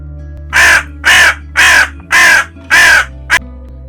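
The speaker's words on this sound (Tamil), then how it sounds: "காகம் கரையும்." A crow caws six times in a steady, evenly spaced series of loud, hoarse calls, the last one clipped short, heard alone and close by.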